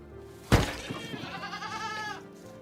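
A goat bleats loudly and close, one long wavering cry after a sharp onset, set against a farmyard murmur with no talk.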